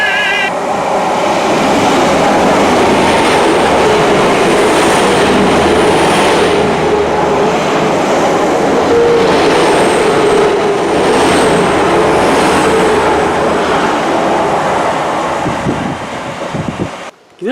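Class 800 train speeding through a Cornish station in pouring rain, a loud sustained roar of the passing train with hissing rush and a horn-like tone, fading near the end.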